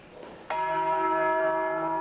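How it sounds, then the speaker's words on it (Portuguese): A church bell in Ouro Preto strikes once, loud and near, then rings on with a long, clear humming decay after a brief quiet lead-in. "Os sinos anunciam a hora da celebração."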